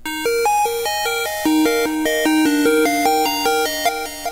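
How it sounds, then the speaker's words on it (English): A synth bass line from FL Studio with no EQ applied, playing a steady sequence of short repeated notes with bright upper harmonics left in; it plays alone at a fairly even level. "So without EQ, the bass sound sounds like this."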